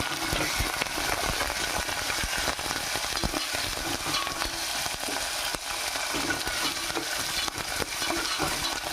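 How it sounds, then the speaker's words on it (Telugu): Slit green chilies fry and sizzle in hot oil in a pan, a steady, dense crackling hiss close up that runs continuously with no voices. "తర్వాత పచ్చిమిరకాయలు, అవి చీరకలు చేసి వేసుకుంటున్నానండి"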